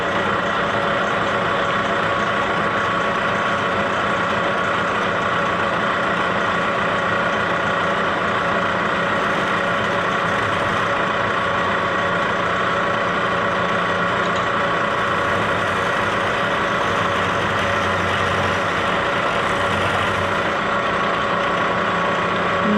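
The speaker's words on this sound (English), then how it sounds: "we're set up in the mill" A milling machine runs steadily while machining parts for an Open Builds Z axis, a loud continuous mechanical hum and whir with slight variations through its length.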